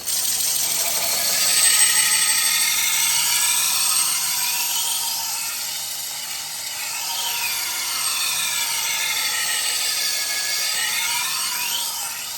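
A knife sharpening machine turning at low speed while a blade is ground, giving a steady high whirring grind with sweeping rises and falls in pitch, close and continuous throughout.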